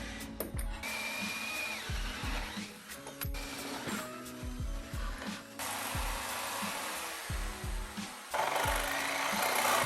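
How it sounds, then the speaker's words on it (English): A power drill drills two holes in short repeated bursts, whirring up and stopping, with clunks and handling noises between, close by and fairly loud. "I'm just gonna drill"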